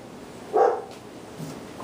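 A neighbour's dog barks in a single short burst, moderately near, with a fainter follow-up yip a moment later, against quiet room noise.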